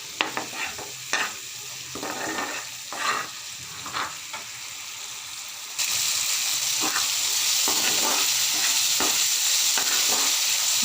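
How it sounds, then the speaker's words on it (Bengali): Spice paste for a fish curry frying and being stirred in a pan, with irregular scraping strokes over a steady close sizzle that grows louder and denser partway through. "মশলাটা এখন ভালো করে কষিয়ে নেব।"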